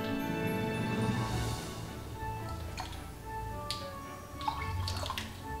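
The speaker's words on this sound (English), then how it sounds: "we're gonna go ahead and pour the whole thing in there" Liquid is poured steadily into a cocktail mix for a Grinch cocktail, giving a continuous close splashing flow with a few small clinks and ticks near the end.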